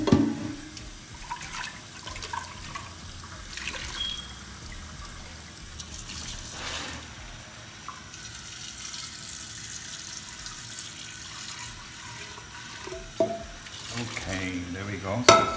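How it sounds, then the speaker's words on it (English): Cold tap water runs steadily into a pan of drained rice for a pilaf, a continuous close splashing rush with a few clanks and some brief talk. "we gotta arrest the cooking process, so we're gonna put some cold water in it"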